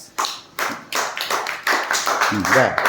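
Schoolchildren at a primary school clap together after a recited Telugu verse, a dense run of rapid hand claps building over a few seconds as a voice and teacher's talk rise near the end.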